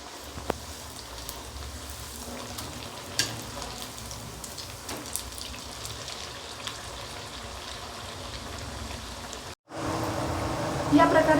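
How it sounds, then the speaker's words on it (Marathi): Potato tikki patties deep frying in hot oil: a dense, steady, rain-like crackle and sizzle with occasional pops, briefly cutting out before returning louder, with faint talk in the background. "इथे मी टिक्कीला डीप फ्राय करते,"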